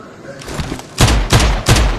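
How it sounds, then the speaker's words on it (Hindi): Gunfire in the battle royale video game PUBG: three loud, evenly spaced gunshots ring out close by after a quieter stretch of soft game noise. "फिलहाल थोड़ी बहुत ही गोलियां मार देता हूँ"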